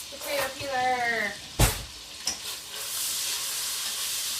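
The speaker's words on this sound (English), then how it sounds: "You can hear the nice sizzle it's got there." Bacon sizzles steadily in a frying pan, a continuous crackling hiss that carries through the whole stretch, with a voice talking over the first part and a couple of sharp clatters midway.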